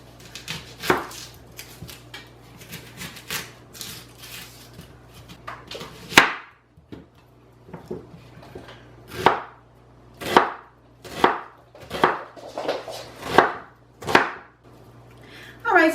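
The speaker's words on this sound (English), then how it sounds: "so now I'm going to chop up some onion" Knife slicing through a whole onion on a cutting board, a series of sharp, distinct close chops at an uneven pace, alone without talk.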